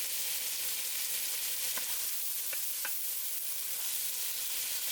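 Diced onions frying in a pot for a sausage potato soup, a steady broadband sizzle with a few soft stirring clicks, close and continuous with no talking.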